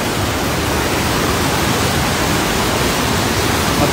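A waterfall fed by the Mudan River at a scenic spot roars close by, a dense, unbroken rush of falling water that stays loud and even throughout, with no voices.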